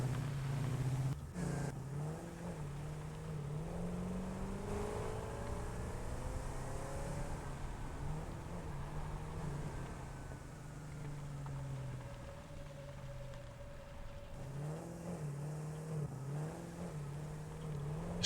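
A small explorer bike in the game Satisfactory drones with a steady synthetic engine hum that shifts pitch up and down over a long stretch, with occasional rises like revving, heard on its own without talk.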